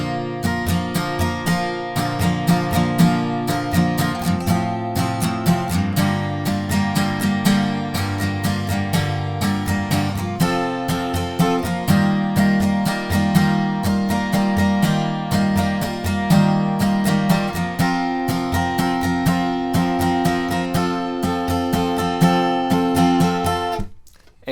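Guitar chords for the chorus and bridge of a song are strummed in a steady repeating pattern, loud and clear on their own, ending in a brief fade.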